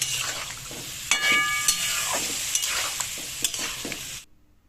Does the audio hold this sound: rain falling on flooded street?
no